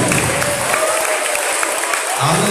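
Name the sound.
congregation clapping hands in church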